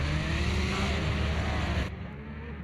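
Porsche race car in a racing video game at Donington, a steady loud engine drone that drops slightly in level near the end, with no voices.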